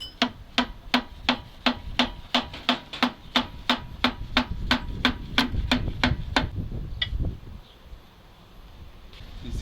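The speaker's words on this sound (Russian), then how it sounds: "И сейчас по старинке молоточком" A small hammer taps a piston down into a cylinder of a ZIL 4975 truck engine: about twenty sharp, evenly spaced metallic strikes over six seconds, close and clear, then the tapping stops and a quieter background remains.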